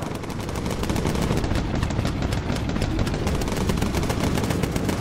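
Aircraft guns fire continuously in the World War II bomber game Bomber Crew, making a dense, steady rattle of rapid shots that stays loud and unbroken throughout.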